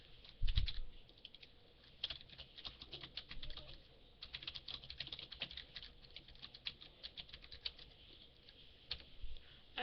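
Fast, light clicking of a computer keyboard as a title is typed, an irregular patter of keystrokes close to the mic with a few louder taps.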